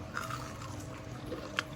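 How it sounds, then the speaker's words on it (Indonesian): Fried breaded shrimp (ebi furai) with a thin batter coating being bitten, giving a few soft crunchy bites close up over a steady low background hum, with one sharper crunch near the end. "ini renyah banget, crunchy banget di luarnya, tepungnya nggak terlalu tebal"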